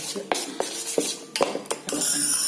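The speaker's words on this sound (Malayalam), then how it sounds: "കസ്റ്റാർഡ് പൗഡറിൽ പാലൊഴിച്ച് ഇളക്കി" A spoon stirs milk into custard powder in a metal pan, giving a series of sharp scraping clinks at an irregular rhythm, close and fairly quiet, with no voices.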